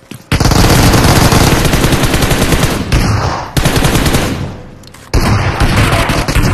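Dense, loud bursts of automatic gunfire and shotgun blasts in a 1v3 video game fight, near and nearly continuous, with a few brief gaps between volleys.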